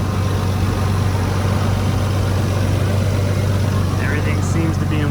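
A 1998 Nissan R34 Skyline GT-T engine idles steadily with a constant low hum, near and continuous, with no breaks or revs.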